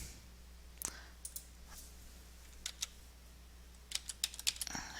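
Someone types on a computer keyboard in a quiet room, producing sparse, faint key clicks in small clusters with pauses between them.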